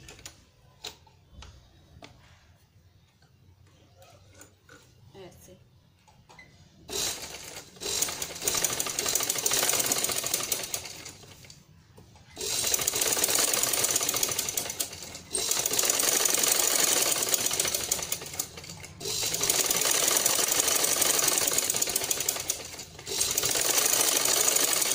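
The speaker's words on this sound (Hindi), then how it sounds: "अब हम स्टिचिंग करते हैं।" A sewing machine stitches a high-neck designer blouse, running in long bursts of rapid mechanical ticking separated by short pauses, preceded by quieter handling sounds.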